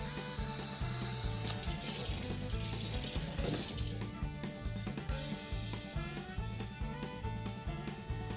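Tap water pours steadily into an Instant Pot inner pot while making chicken broth, a loud continuous splashing rush that cuts off around the middle, leaving faint clinks and kitchen clatter.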